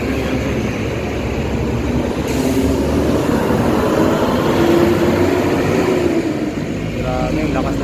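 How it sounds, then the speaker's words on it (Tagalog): Engine of a new DLTV provincial bus in Bicol rumbles loudly as the bus passes close by, swelling through the middle and easing off, with brief voices over the noise. "Grabe, lakas ng makina."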